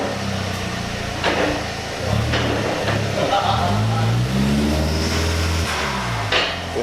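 Remapped Mk4 Golf on its first drive, engine revving up and easing off in several rising sweeps heard from inside the car, with a few clunks and some quiet talk in the cabin.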